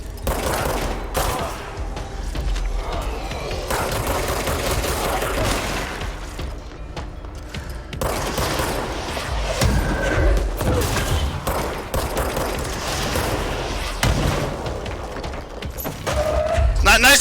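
Gunfire and rocket blasts from the video game Control rattle on in dense bursts for many seconds, loud and continuous, with a voice talking over the action.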